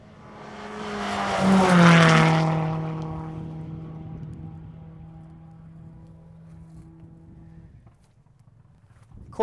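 A loud helicopter engine drone with a descending pitch sweeps overhead at a rally stage, peaking early then fading into the distance.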